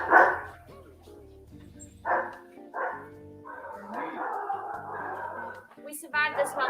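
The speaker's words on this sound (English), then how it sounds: "We survived this long without dogs going crazy" Dogs barking indoors during a home cooking session: several loud barks and yips near the start and middle, mixed with whimpering, alongside people talking.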